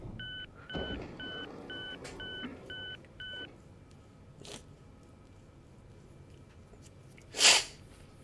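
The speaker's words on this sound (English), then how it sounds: "that must have been a very loud sniffle" One loud, close, sharp sniffle bursts out late, alone over a quiet background after a run of soft electronic beeps.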